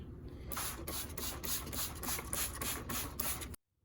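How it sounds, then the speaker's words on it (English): A can of Lysol disinfectant spray sprays in a series of rapid hissing bursts, close up and continuous for a few seconds, then cuts off to silence. "I am going to spray it with some Lysol disinfectant cleaner"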